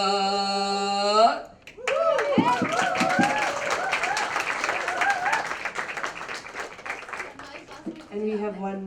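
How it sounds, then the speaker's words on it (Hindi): An audience at a music press conference bursts into loud applause and cheering after a sung phrase, with clapping sustained for several seconds before the singing resumes. "एक बार और जोरदार तालियां हो जाए।"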